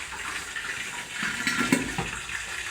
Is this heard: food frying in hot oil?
yes